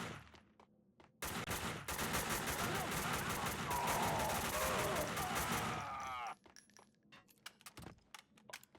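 A sustained burst of rapid automatic gunfire in the shooter game Max Payne 2, loud and continuous for about five seconds, followed by scattered clinks and quieter shots.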